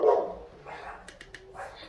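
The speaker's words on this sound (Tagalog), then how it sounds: "Tinatahol na siya ng dalawang aso doon." Two dogs, one large and one small, barking: a few short, separate barks and yips at close range, with brief pauses between them.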